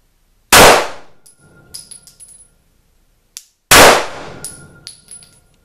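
A Glock 17C pistol fires two loud, sharp rounds at an outdoor range, spaced about three seconds apart. Each shot is followed by a ringing metallic tail and the clink of ejected brass.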